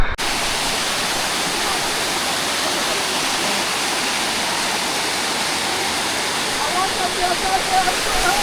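A waterfall roars as a loud, steady wash of rushing water that fills the whole scene without a break, with a few faint sounds surfacing near the end.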